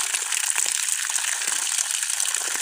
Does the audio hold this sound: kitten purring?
no